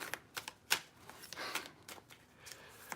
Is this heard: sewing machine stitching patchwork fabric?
no